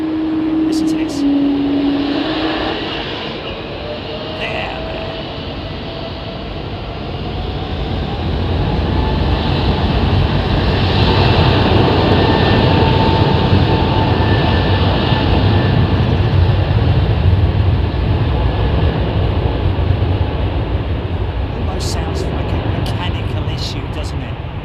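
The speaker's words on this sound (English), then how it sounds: "Now listen to these Pratt & Whitneys, man. There's just at the point of when they spool up." Pratt & Whitney jet engines spool up at Heathrow Airport into a loud, broad roar that swells and holds steady, with a short rising whine near the start.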